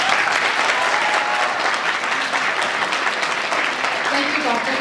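Audience at a medical school keynote lecture applauding after the speech, a dense, steady wash of many clapping hands filling the room throughout.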